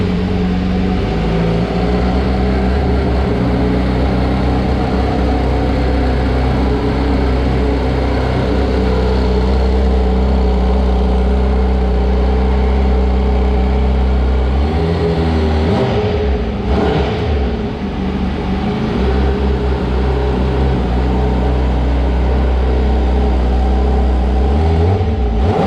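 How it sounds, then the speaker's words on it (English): A Honda CBR1000RR-R Fireblade's liter-class inline-four engine runs with its exhaust, a loud steady drone with a few brief blips and dips in revs, heard close with no talking. "let's turn on the motorcycle and let's hear the symphony of liter class inline 4 motorcycle"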